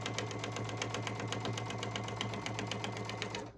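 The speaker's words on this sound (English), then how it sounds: "Putting my needle down, and we're going to start sewing." Sewing machine back stitching through a thick dish drying mat, fast steady needle rhythm running close and loud throughout with a low motor hum, no voices.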